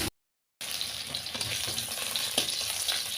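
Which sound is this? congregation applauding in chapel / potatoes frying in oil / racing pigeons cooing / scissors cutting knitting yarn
potatoes frying in oil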